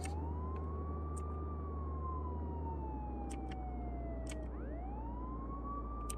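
A police car siren wails continuously in a video game while the car drives across a bridge over a lake, with a steady engine rumble underneath and the pitch sweeping up and down.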